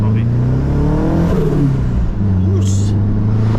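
A rattly, vibrating wagon engine revs up and down close by, a rough low drone rising and falling over a few seconds, with voices talking over it.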